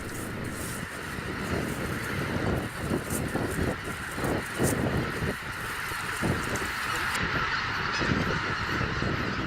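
Loud, continuous honking and calling from a group of bean geese just caught by researchers at a lake in the Cheonsu Bay area, with overlapping calls throughout and no talking.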